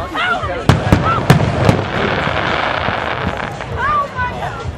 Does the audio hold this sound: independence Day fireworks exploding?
yes